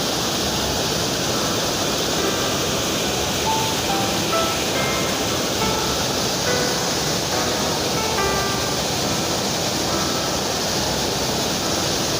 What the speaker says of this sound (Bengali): নাফাখুম জলপ্রপাত, জলরাশি কত গতিবেগে পড়ছে, মনে হয় যে নায়াগ্রা জলপ্রপাত।